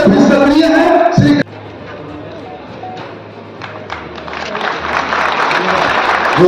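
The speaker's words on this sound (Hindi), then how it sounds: "जोरदार तालियों से स्वागत करें" An audience at a celebration for MP Radha Mohan Singh's 75th birthday claps, first in a loud burst that cuts off, then as softer, scattered applause that builds again toward the end.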